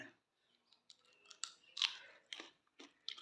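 Crisp crunching bites into a raw green chili dipped in salt, a few sharp close-up crackles and chewing clicks over quiet.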